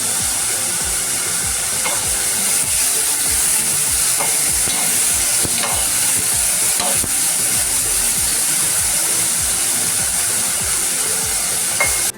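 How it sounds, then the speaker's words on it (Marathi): Cauliflower stir-frying in a pan, a loud continuous sizzle and hiss with scraping stirring strokes throughout, close and without any voices. "आता आपण एका फ्लावर परतून घेतलं"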